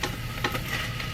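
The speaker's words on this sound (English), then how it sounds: "I like to keep stirring it" A spoon scrapes and stirs through taco soup in a cooking pot, a short run of close, clattering strokes over a constant background hiss.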